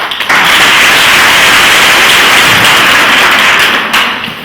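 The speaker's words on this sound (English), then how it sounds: "Clap for her." Loud, sustained applause from an audience at an author's book tour event in Kenya, a thick continuous patter of many hands that begins abruptly and carries on throughout.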